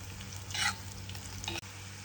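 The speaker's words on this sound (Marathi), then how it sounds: "तर म्हणजे कांदा छान परतला आहे." Onion sautéing in a pan makes a soft, steady sizzle, with a couple of brief scraping stirs and a short break near the end, and no voices.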